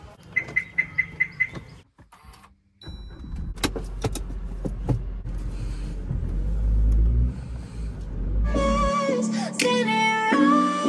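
A family car starts up and pulls away, its engine rumbling low and steady for several seconds after a few clicks and door sounds, then giving way to brighter tonal noise near the end; no talk is heard.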